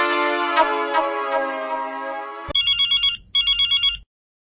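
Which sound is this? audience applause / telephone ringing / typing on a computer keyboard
telephone ringing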